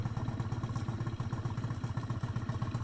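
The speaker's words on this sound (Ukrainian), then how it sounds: "Як чуєте по мотору, робить він взагалі тихесечко" A Honda scooter engine idles quietly with a steady, low, pulsing putter, even in rhythm and close by, with nothing else heard.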